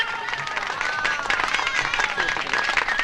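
An audience applauds at a magic show, with dense, moderately loud clapping beneath someone speaking over a microphone.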